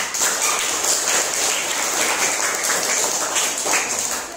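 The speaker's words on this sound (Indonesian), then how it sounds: "Bu Guru berikan tepuk tangan untuk semua kelompok." A school class claps continuously, a dense, even patter of hands lasting a few seconds.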